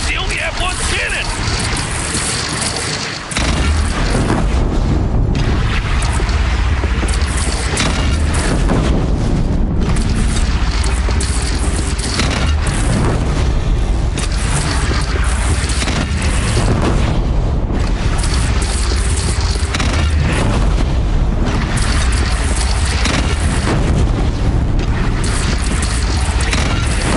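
Cannon fire and explosions in a battle against a bandit clan in the video game Horizon Zero Dawn, heavy booming impacts repeating over a loud, dense background with voices shouting throughout.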